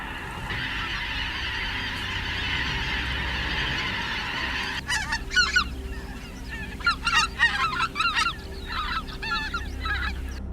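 A large flock of wild geese in Texas honks continuously, then sharper bursts of close, rapid honking stand out over the steady clamor.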